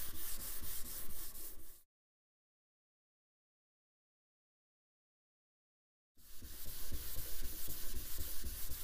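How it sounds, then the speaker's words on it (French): Hand sanding of a café racer motorcycle fuel tank: steady, close abrasive rubbing strokes for about two seconds, a silent gap of around four seconds, then the rasping resumes at the same strength. "Il est très important de poncer un peu dans tous les sens, de ne pas faire tout le temps le même mouvement"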